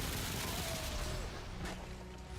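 Pistol fire in the video game Remnant: From the Ashes, a dense, continuous barrage of rapid shots with booming low end over ambient game noise, fairly loud throughout.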